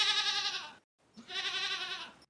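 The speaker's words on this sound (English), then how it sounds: "Why on earth do you have a pet goat?" A goat bleats twice in quick succession, two clear, fairly loud cries separated by a short pause, with no talk over them.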